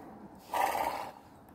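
A single short whinny or snort from a horse in a video game set in Jorvik rises briefly in the middle, fairly close, against a quiet background.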